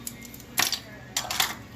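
Metal measuring spoons on a ring clink together in two short bright jingling bursts, close and crisp against a quiet background.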